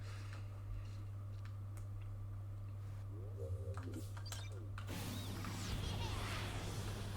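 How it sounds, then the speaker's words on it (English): A wrench attack in the Sonic Frontiers video game makes mechanical ratcheting and clanking effects over a low steady hum, turning busier and noisier in the second half. "My awesome wrench attack."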